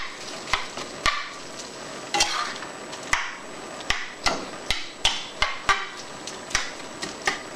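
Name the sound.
taco meat being stirred in a pan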